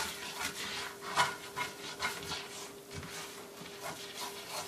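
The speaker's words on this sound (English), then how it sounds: "I want to scrape up all the fond off the bottom, which is that brown crusty parts, which are the flavor bits." A wooden spatula scrapes browned fond from a pan bottom after meatballs: faint, repeated rasping strokes in an uneven rhythm, with a steady low hum beneath.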